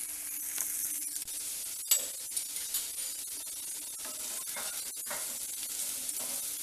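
Baby potatoes fry in a pan with a steady, moderate sizzle, broken by a few light clinks and stirs, with no talking.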